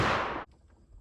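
Antique Winchester Model 25 shotgun fired at an outdoor target: one loud, close blast that cuts off sharply and leaves a faint trailing echo.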